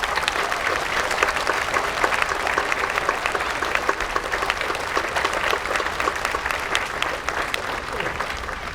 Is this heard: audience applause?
yes